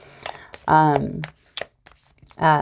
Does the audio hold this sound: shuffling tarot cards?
yes